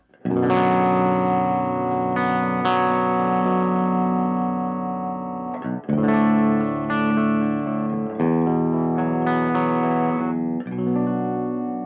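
Distorted baritone electric guitar chords ring out with heavy overdrive, tremolo and reverb effects, several sustained strummed chords changing every couple of seconds, loud and full.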